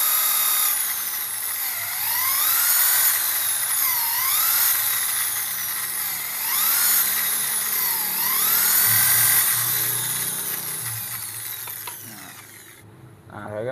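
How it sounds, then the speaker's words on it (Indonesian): A two-inch Apollo jet pump nozzle for a well being drilled, giving a steady high whine with repeated rising and falling sweeps as the bit works the part, close and loud throughout before stopping near the end. "Nah, sekarang udah kita bor."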